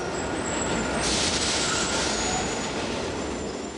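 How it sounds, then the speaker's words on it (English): A New York subway train roars past with a steady rumble of wheels on track and a thin metallic squeal rising partway through, loud and close. "the sound of the New York subway"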